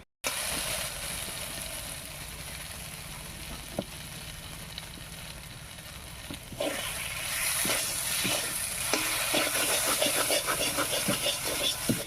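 Rice fries with spices, salt and turmeric in a pan for a pointed gourd dish, a constant hissing sizzle that swells louder partway through as stirring begins, with repeated scraping clicks of a spoon.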